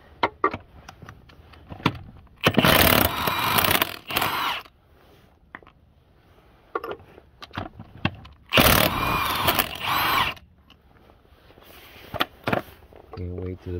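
A Milwaukee impact wrench hammers a nut loose on the front end of a 2002 Ford Ranger 4x4, with two long loud rattling bursts and a few short blips between them, and someone talking in the gaps.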